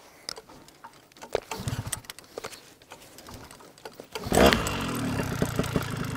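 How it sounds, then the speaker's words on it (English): Rattling tugs and clicks of a Vittorazi Moster 185 paramotor engine being pull-started during break-in, then it catches and settles into a steady, loud idling drone. "The engine is now started."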